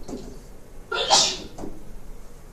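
A single short sneeze in a classroom, one quick burst that stands out against quiet room tone, with faint low murmuring around it.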